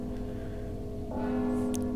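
A bell rings in the stealth video game Mark of the Ninja, a sustained resonant tone that swells slightly louder partway through, with no talking.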